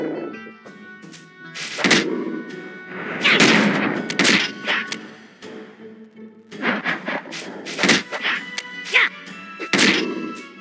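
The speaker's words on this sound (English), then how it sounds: "everything is going crazy here with the fireworks" Fireworks burst outdoors during a Fourth of July night, a series of loud, sharp bangs and crackling thumps in uneven clusters, some overlapping in rapid bursts with brief quieter gaps between.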